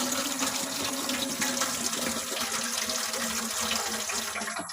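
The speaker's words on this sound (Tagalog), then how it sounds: "hahaluan natin ng tubig" Water is poured into a mixing container for a plant treatment solution, a steady close splashing gush lasting several seconds before tapering off at the end.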